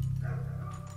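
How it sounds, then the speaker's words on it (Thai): A dog barks in a Minecraft haunted-school map, a short yip heard faintly over loud, low, droning background music. "เฮ้ยๆหมาเห่า"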